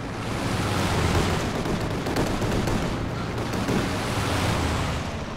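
Dense, sustained gunfire from a single MG position in Company of Heroes 2 roars loud and close for the whole stretch, a continuous rattling barrage with no pauses.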